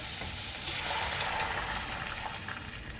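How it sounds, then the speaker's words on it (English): Water pours into a hot pan of sweated vegetables for Japanese curry, giving a steady hissing sizzle and rushing splash that holds throughout at close range. "Then when we have that, we can add our water."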